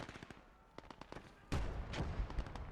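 An M33 grenade blast in the World War II game Gates of Hell: a few scattered sharp cracks of distant gunfire, then one loud, booming detonation with a rumbling tail that lingers to the end.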